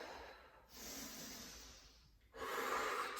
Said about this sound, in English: So you're inhaling, exhaling.